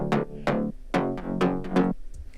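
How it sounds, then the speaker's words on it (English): Short bass pluck notes from an electronic music drop, heard without sub bass: about five bright, harmonically rich plucks in a steady rhythm, each decaying quickly, loud and close with no talking. "So this bass pluck layering sounds like this."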